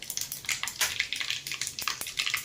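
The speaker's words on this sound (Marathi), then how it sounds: "चटणीला तडका देण्यासाठी इथे मी तेल गरम करून ठेवले। अर्धा चमचा मोहरी टाकून घ्यायची, जिरं टाकायचे" Mustard seeds and cumin sizzle in hot oil for a chutney tempering, with crackling pops and bursts of spitting in an irregular rhythm, close up.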